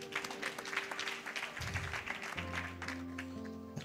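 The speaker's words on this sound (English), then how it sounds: "Let's clap for Jesus Christ." A church congregation claps together during a healing and deliverance service, a brisk fairly quiet patter of many hands with a steady low tone and some background hum underneath, no distinct speech.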